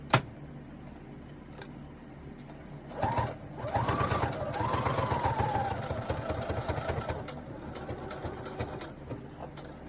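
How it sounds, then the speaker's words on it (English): A sewing machine stitches around the edge of a fabric clothing cover, or adult bib, running in a steady, close, continuous whir for several seconds after a brief start, then slowing slightly. "all we're gonna do is just sew around the edge of it"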